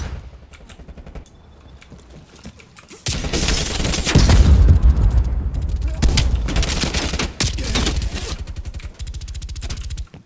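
Call of Duty: Black Ops Cold War match with a flashbang grenade going off amid rapid gunfire: dense bursts of shots, a loud concussive blast midway, then sustained loud firing to the end.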